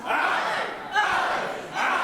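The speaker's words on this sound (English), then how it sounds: "Crowd now getting into Caveman Ugg." A pro wrestling crowd at a live event in Darwin cheers and roars steadily, a loud, dense wall of voices that swells slightly and continues throughout.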